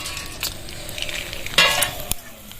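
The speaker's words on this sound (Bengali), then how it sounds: "ফোড়নের জন্য দুটো এলাচ লবঙ্গ দারচিনি দুটো শুকনো লঙ্কা তেজপাতা একটা নিয়েছি এবার দিয়ে দেবো" Whole cardamom, cloves, cinnamon, a bay leaf and two dried chillies are tempered in hot oil for a chicken curry, sizzling and crackling close by with a few brisk stirs and a sharper burst midway.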